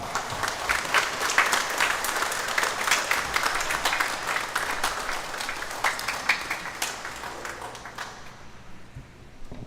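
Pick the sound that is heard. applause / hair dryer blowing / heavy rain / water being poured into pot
applause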